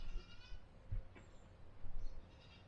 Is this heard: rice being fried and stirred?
no